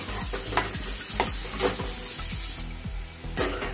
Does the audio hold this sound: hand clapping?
no